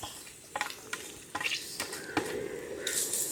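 Garlic sizzling as it is added to hot olive oil for creamy garlic prawns: a steady, close crackling fry broken by stirring scrapes and light clinks of utensils against the pan.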